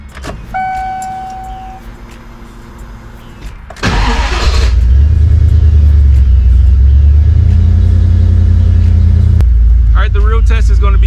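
A turbocharged SN95 Mustang cranks briefly, then its engine catches and settles into a loud, close, rumbling run, with a voice speaking near the end.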